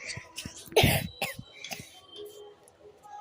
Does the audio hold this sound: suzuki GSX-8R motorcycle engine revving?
no